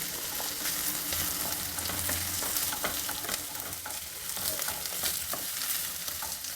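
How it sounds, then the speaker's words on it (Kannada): Mixed vegetables for a moong dal and poha usli frying on a high flame while being stirred constantly, making a dense sizzle broken by repeated scraping clicks of the spoon against the pan. "ಹೈ ಫ್ಲೇಮಲ್ಲೇ ಇದನ್ನೆಲ್ಲ ಹುರಿಬೇಕು ಬೇಗ ತರಕಾರಿಗಳು ಫ್ರೈ ಆಗುತ್ತೆ ಕೈ ಬಿಡದೆ ಕೈ ಆಡಿಸ್ತಾ ಇರಬೇಕು"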